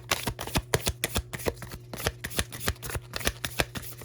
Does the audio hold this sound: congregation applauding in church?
no